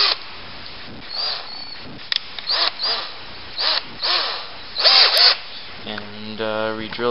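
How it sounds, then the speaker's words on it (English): A drill with a 1/8 inch bit works through a small pipe workpiece in short bursts of whirring, revving up and cutting out repeatedly at close range, ending in a stuttering grind. "Next, you get 1/8 of an inch drill bit again,"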